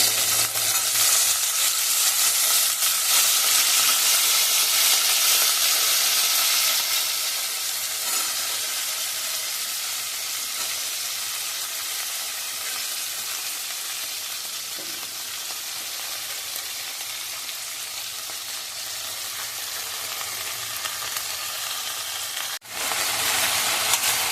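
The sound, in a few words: sauteing okra in a pan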